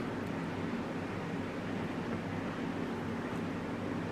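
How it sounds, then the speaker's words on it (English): A heater fan produces a steady, low broadband hum with a faint tonal drone, continuous and even throughout, with no other sounds. "That noise you can hear in the background is my heater"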